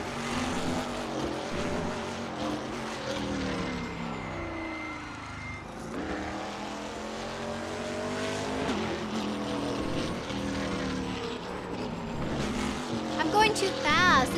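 Car engine in a racing video game, whining and rising through gears with a sharp drop mid-way, under ongoing game audio and background sound.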